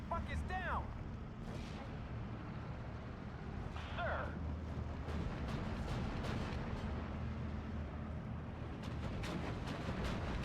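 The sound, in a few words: M4 105 artillery firing in the video game Steel Division 2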